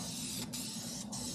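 Spray paint hissing from an aerosol can onto a BMW E36 drift car, a loud, close, continuous spray broken by two brief pauses, with no talking.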